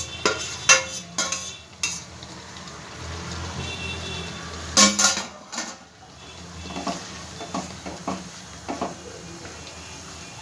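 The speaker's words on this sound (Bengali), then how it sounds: "এই পর্যায়ে আমি ভেজে রাখা করলা আলুগুলো সব দিয়ে দেবো।" Fried bitter gourd and potato pieces tumble into a simmering gravy, with a few sharp clatters of a spoon against the pan and soft stirring scrapes over a low bubbling background.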